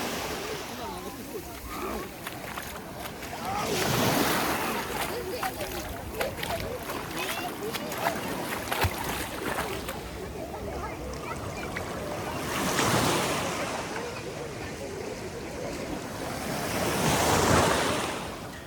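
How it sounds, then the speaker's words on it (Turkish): Sea waves washing onto the shore at a forest campsite near Alanya, Antalya, with broad surges swelling and breaking every few seconds over constant wind rumble. "Sadece deniz sesiyle sizi yalnız bırakıyorum."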